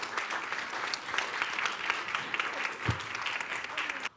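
A crowd at a women's party founding convention on International Women's Day claps steadily, a dense wash of applause filling the hall and stopping abruptly at the end.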